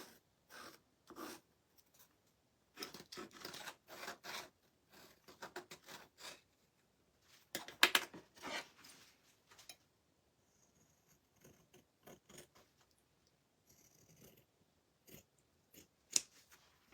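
Scissors snip through a craft piece in quick, irregular bursts of close, crisp cuts with short pauses between them, quiet overall and free of talk.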